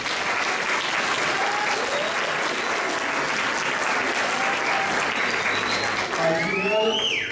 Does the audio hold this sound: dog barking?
no